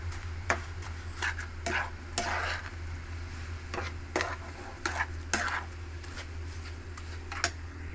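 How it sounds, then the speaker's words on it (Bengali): A coconut and sugar mixture stirred in a pan, repeated scraping strokes of a spatula in an irregular rhythm over a low steady hum, each stroke a short rasping burst close by. "ভালো মতো নাড়বো আবার।"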